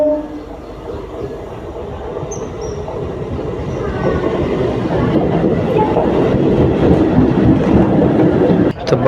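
A packed passenger train pulls into a busy station, its rumble and wheel clatter building steadily louder and closer over the crowd's background murmur, with a brief screech of wheels near the end.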